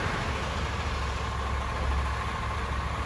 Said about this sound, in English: Just see the concrete mixer spinning down there.